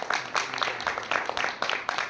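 Applause from a live audience at a Hindi talk about the battle of Haldighati, a dense, moderately loud patter of hand claps with rising and falling bursts throughout.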